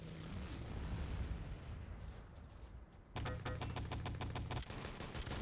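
MG42 machine gun in Wolfenstein: Enemy Territory fires a fast, regular burst of shots that begins partway through and plays under a dense, noisy battle background.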